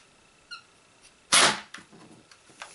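A Zombie Strike Crossfire Bow toy blaster fires a foam dart with one sharp, loud snap in the middle, preceded by a faint click and followed by softer clicks and rattles of the mechanism.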